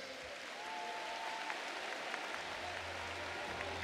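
Audience applause at a political party congress hall, a broad continuous wash of clapping heard somewhat distantly, with a faint hum and occasional tonal sounds beneath it.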